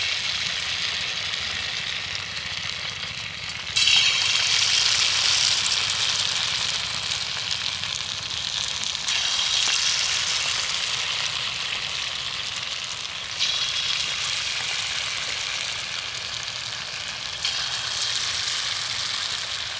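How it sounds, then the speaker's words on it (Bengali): Raw potato and flattened rice snacks fry in hot oil with a steady, dense sizzle and crackle that swells slightly as new pieces drop in, with no talking. "আবারও একই রকমভাবে আমি তেলের মধ্যে ছেড়ে দেব"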